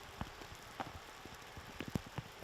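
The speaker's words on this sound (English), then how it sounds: "As you can see, the rain is picking up as well." Rain falling on a disc golf course during a college national championship final, faint scattered raindrop taps and patters on surfaces over a soft outdoor background, no talking.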